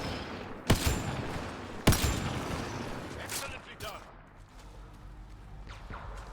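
Turret gunfire in Mass Effect: Andromeda, two sharp loud shots cracking out early, then a spell of lighter clatter and shots trailing off, with people talking underneath.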